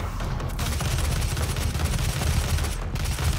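Sustained video-game gunfire in DOOM, with a dense, loud volley of booming shots and explosions rolling on without a break, close and heavy, with no voices.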